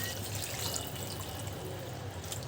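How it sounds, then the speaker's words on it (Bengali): Water is poured into a cooking pot for Malabar spinach with shrimp. It makes a steady, close splashing rush that lasts throughout, with no voices. "এখন জলের পানি দিয়ে দিই।"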